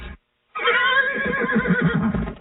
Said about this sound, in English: Is that a horse? Actually, it's a wild stallion.